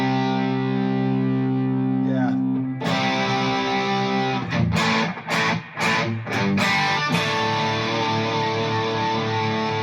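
Sustained notes from an Ibanez RG60 ALS electric guitar with a Sustainiac sustainer played softly, a distorted, effected tone pulsing rhythmically, with a few sharp plucked attacks in the middle before ringing on.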